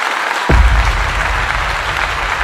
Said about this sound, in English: I give you kudos and claps